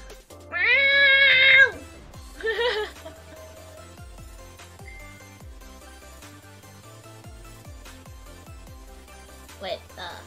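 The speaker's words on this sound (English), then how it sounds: "Mary, be a good cat and let me do my work." A house cat meows loudly and insistently up close, one long drawn-out meow then a shorter one, with a faint meow near the end, over soft background music.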